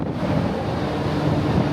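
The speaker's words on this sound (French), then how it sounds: "il y a beaucoup de vent" Strong wind buffets the microphone outdoors at night in the cold, a continuous loud rumbling roar with no speech.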